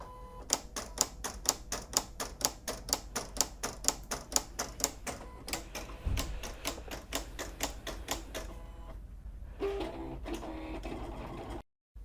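A Silhouette CAMEO cutter slicing Magic Flock rhinestone template material, a fast run of sharp regular ticking clicks from its moving carriage, then quieter mechanical whirring and a brief pause at the end, with no talking.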